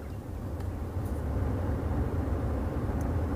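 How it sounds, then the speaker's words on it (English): The ventilation fan in a 2021 Rolls-Royce Ghost blows a steady, fairly loud broadband whoosh with a low rumble, constant and unbroken inside the cabin. "The fan for the ventilation system is a little bit louder than you might imagine it should be on a Rolls-Royce"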